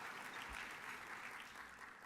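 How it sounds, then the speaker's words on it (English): Faint, distant applause from a banquet audience at an environmental awards event, a soft continuous patter of clapping heard throughout the short stretch. "You can applaud for that."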